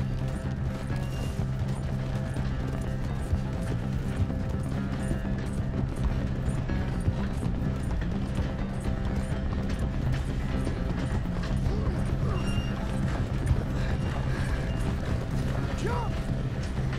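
Rapid hoofbeats clatter along steadily in Red Dead Redemption 2 under mechanical creaking and ratcheting, a busy, continuous game-like soundscape with faint voices.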